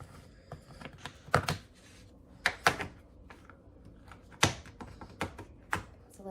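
A knife chops a bar of unsweetened chocolate on a cutting board, making irregular sharp taps and thunks in small clusters with quiet gaps between them, fairly close and faint.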